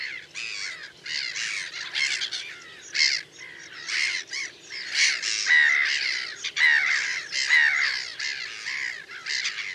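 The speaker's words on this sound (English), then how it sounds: "As in a colony of black-headed gulls, fledglings grow rapidly all around." Black-headed gulls calling in a wetland breeding colony, a dense overlapping chorus of harsh raucous squawks and caws, steady and fairly close throughout.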